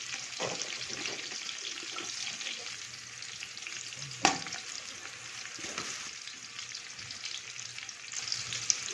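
Chopped onions sizzle steadily in hot cooking oil as they fry toward golden for a vegetable pulao. The hiss is soft and constant, with a clink of stirring midway and no talking.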